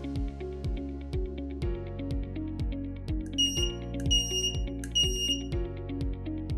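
A buzzer on an electronics education kit beeps in a quick repeating melodic pattern, with a higher piercing chirp joining partway through, clear and close with no voices.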